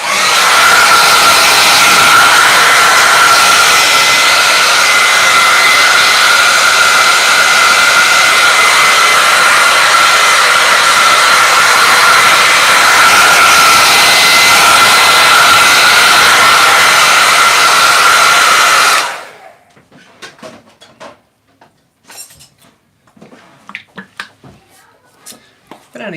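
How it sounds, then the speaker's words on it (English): A hair dryer runs at a steady, loud whine for about nineteen seconds while drying gloss medium on a sketchbook page, then switches off, leaving quiet taps and handling noises from the art session. "I'm going to quickly dry this just to make sure the gloss medium is dry."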